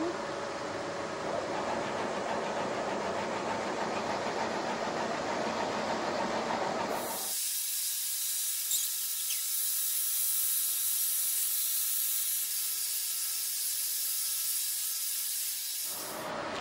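An Epilogue Mini laser cutter cuts 1/16-inch clear acrylic, giving a steady loud hiss of exhaust and air assist. Partway through, the low rumble drops away and a bright, airy hiss carries on alone until it stops near the end.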